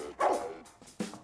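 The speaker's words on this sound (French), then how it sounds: "Je t'en supplie, arrête d'aboyer." A Labrador dog barks twice at close range, a loud sharp bark and then a shorter second one, with nothing else heard.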